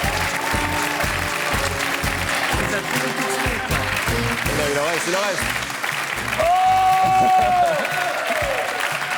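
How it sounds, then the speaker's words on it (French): A studio audience at a French television comedy show applauds steadily and loudly as guests are called to join the host on stage, with shouts, cheers and speech running over the clapping throughout. "J'aimerais que mes complices nous rejoignent, s'il vous plaît, mesdames, messieurs. Sous vos applaudissements."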